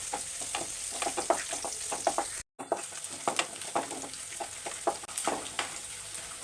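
Curry leaves fry with koorkka in a hot pan, giving a steady crackling sizzle broken by rhythmic scraping stirs, with one brief dropout partway through.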